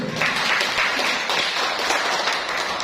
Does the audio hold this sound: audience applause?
yes